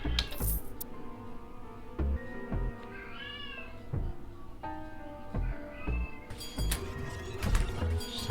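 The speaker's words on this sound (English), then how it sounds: "I don't know if you can hear my cat yelling in the background." A female cat yowls repeatedly in drawn-out, rising cries amid clinking and rattling household noises nearby.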